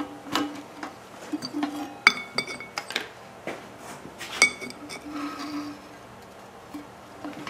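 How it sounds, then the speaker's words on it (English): Carburetor and gas tank being taken off a Briggs engine as one unit, producing scattered close metallic clinks, taps and light rattles at an uneven pace, without talking. "I'll pull the carburetor off."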